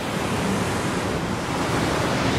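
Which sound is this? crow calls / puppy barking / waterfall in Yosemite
waterfall in Yosemite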